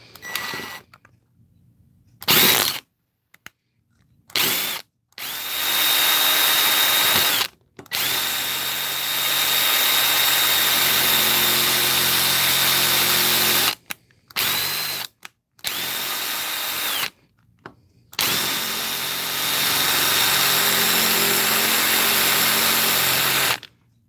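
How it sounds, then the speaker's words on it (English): An electric screwdriver with an automatic stop driving a screw: repeated loud, close motor whirs in short and long bursts separated by silent pauses, with no voices. "Don't worry about me stripping the screwdriver head because this has an automatic stop."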